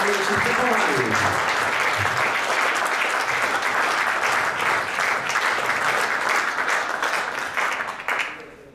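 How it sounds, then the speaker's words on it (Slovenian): Applause from a small audience in a hall at a Slovenian kayaking awards event, a dense, steady round of clapping with a voice briefly heard at the start, fading out near the end. "lahko damo en aplavz tega naši mladini"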